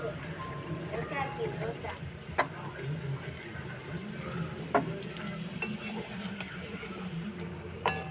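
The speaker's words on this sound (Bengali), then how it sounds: "গরম হয়ে যাবে, রাধা বল্লভীটা ছেড়ে দিচ্ছি।" Radhaballavi dough frying in hot oil, a steady soft sizzle with occasional small pops and clicks, heard beneath a voice talking throughout.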